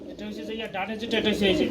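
Danish pigeons cooing nearby, soft repeated throaty burbles that overlap someone talking.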